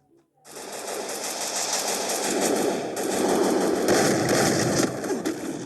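Sustained rapid automatic fire from a minigun in the Free Fire battle game, a dense continuous rattle of shots that starts abruptly after a brief silence and holds loud throughout.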